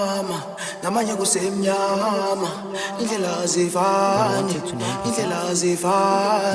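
Vocals run through a hyper chorus effect in FL Studio, with a smooth, floaty, wavering shimmer over an Amapiano-style mix. The sound is continuous, loud and up close, with no talking.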